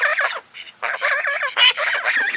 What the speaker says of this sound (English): I just had to show you guys the geese